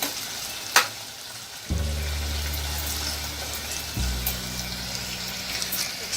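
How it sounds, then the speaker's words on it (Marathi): Onion and garlic hitting hot oil as a tempering for dry mutton, a sharp clack before the sizzle jumps up loud and stays steady, then swells again with more stirring. "आपण इथे कांदा आणि लसूण फोडणीला घातलेला आहे."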